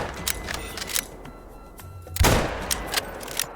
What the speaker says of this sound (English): let's take this shot